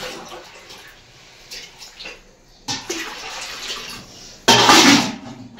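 Water poured onto washed rice for cooking in a home kitchen, heard as irregular splashing and trickling up close, ending in a louder gush.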